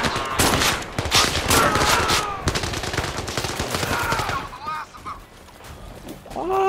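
Bursts of rapid gunfire in the first-person shooter video game Zero Caliber, loud and close, with rattling volleys in the first seconds that thin into scattered shots and game effects, while players talk over them.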